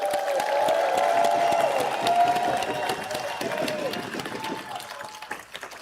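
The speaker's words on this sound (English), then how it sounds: "let's have a huge round of applause for our newer mentors between 1 and" Audience applause and cheering at a FIRST robotics district event in a large venue, a dense steady wash of clapping with voices and whoops mixed in, fading slightly toward the end while a tone sounds underneath.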